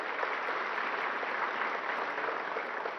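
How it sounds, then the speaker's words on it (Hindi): Loud, dense applause from a crowd at a public agricultural scheme launch event in India, steady and continuous throughout as a farmer receives a natural farming produce certificate on stage. "जोरदार तालियां"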